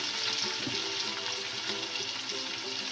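Chicken frying in a pan for chicken macaroni as chopped capsicum goes in, a dense, steady, close sizzle with faint stirring scrapes and no speech.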